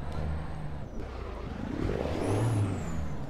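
A rusty custom International 9900i truck in an American truck simulator drones with a low, steady engine rumble that swells slightly, broken by a hissing air-brake release.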